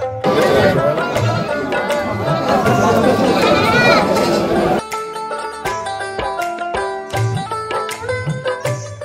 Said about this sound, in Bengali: হাটে ছাগলের ডাক, ক্রেতাদের দর কষাকষি